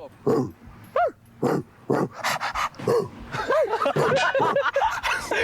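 A person imitates a dog with a series of short, yelping bark-like bursts, spaced at first and then coming faster and more playful, loud and close, with laughter mixed in.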